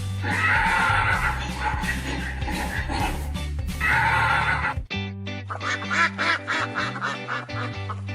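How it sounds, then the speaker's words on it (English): A farm donkey brays in repeated loud, drawn-out calls, heard up close over steady background music. "Donkey."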